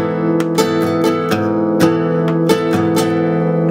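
A guitar chord is strummed up close in a loose rhythm of quick strokes, the chord sustaining between attacks. It is clear and solo, with no voice.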